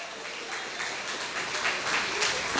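A church congregation applauds during an evening service, a dense, steady wash of clapping that builds slightly over a few seconds.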